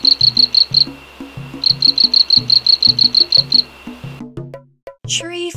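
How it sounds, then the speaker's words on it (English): A tree frog calls in two runs of rapid, high, pulsing trills, each lasting over a second, heard over a steady plucked-note music backing. "Tree frog."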